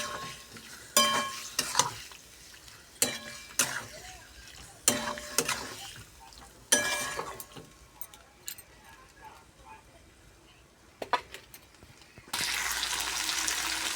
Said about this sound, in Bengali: মশলাটা ভালো করে ভাজাও হবে, মাংসটাও ভালো করে ভাজা হবে। দেখো, সব সময় লাড়তে হবে